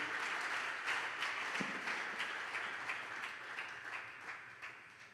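A conference audience applauds the Lord at a faint, distant level: a soft, continuous wash of clapping that slowly fades, with no clear voices over it.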